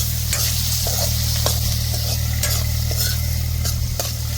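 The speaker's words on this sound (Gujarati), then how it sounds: "કાંદાને આપણે થોડીક વાર ફ્રાય કરીશું" Onions frying in a pan for a Surati angoori sabzi, with a loud, steady sizzle and light, repeated stirring scrapes throughout.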